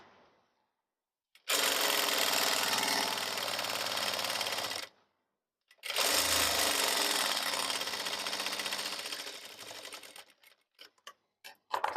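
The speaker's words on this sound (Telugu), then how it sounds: "నాలుగోది కూడా మీకు కుట్టి చూపిస్తున్నా" A sewing machine stitches a blouse dori (tie cord) in two long, steady runs of loud continuous whirring, separated by a short pause and ending in a few brief stop-start bursts.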